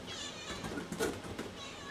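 A house cat meows softly nearby, a short drawn-out call of about a second with a wavering tone, set against quiet room background.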